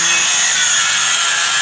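A steel wire brush spun by an angle grinder scrubs the metal shell of an ammonia receiver tank during restoration, giving a steady, loud, hissing abrasive rasp that runs unbroken throughout.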